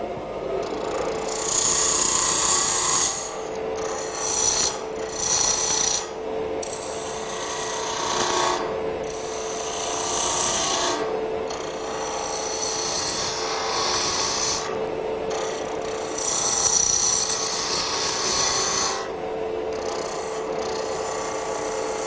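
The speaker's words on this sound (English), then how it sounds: "I'm going to do that shaping with a 3/8 spindle gouge" A 3/8 spindle gouge shapes a wooden box on a lathe, giving a steady rasping cut with short pauses between passes, close and fairly loud throughout.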